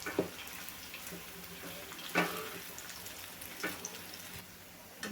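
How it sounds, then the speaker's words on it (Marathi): Dahi vada fry in oil over a medium gas flame, a low steady sizzle broken by a few soft scraping stirs, faint and close, with no one speaking. "मीडियम गॅसवरच आपल्याला हे तळून घ्यायचे आहे"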